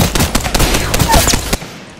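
Rapid gunfire in a shooter video game, dense bursts of close, loud shots crackling for about a second and a half before cutting off abruptly, with no speech over it.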